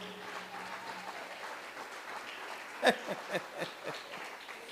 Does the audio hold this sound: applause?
yes